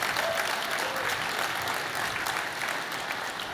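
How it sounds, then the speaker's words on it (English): Steady, full applause from a large keynote audience, continuous and even throughout with no voices breaking through. "Now, go ahead, you can clap."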